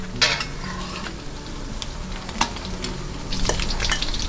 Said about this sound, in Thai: แล้วก็หมุนหมุนคอยหมุนไข่เขาแบบนี้เหมือนเดิมนะคะ